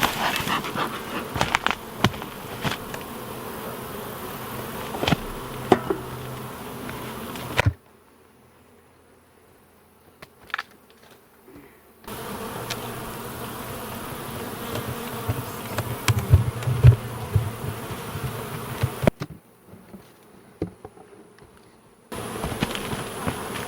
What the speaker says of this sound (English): I'm gonna have bees all over me.